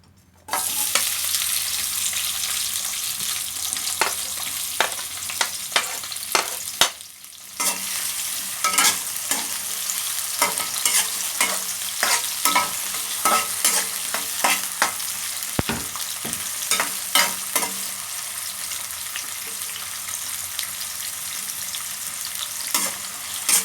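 White onion sautéing in hot cooking oil in a pan, a steady close sizzle broken by frequent stirring scrapes and clinks, loud and continuous with a brief lull partway through.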